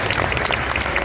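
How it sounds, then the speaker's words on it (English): A comic con Q&A panel audience claps for a contest winner, giving a brief burst of dense, even applause from the crowd. "another round of applause for our winner"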